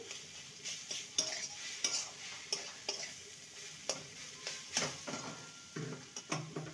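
Potato and fresh winter vegetables stirred together in a pan over a medium gas flame, a spoon scraping and clinking in irregular strokes over a low, steady sizzle, close and fairly quiet.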